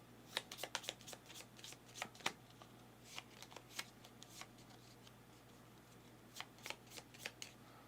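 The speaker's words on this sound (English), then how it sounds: "Shuffle the power plant stack." A stack of power plant cards for the Power Grid board game being riffle-shuffled by hand, with repeated sharp bursts of card flicks in uneven clusters and short pauses between, close and clear over a low steady hum.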